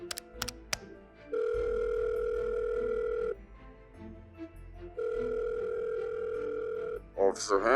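A telephone rings in two long steady bursts, each lasting a couple of seconds, after a few faint clicks and handling sounds, with a short noise at the very end.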